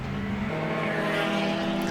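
Historic racing cars, an Aston Martin DB4 GT and a Lotus breadvan, roar past at Lavant Corner with a sustained high engine note that rises and shifts, loud and close throughout.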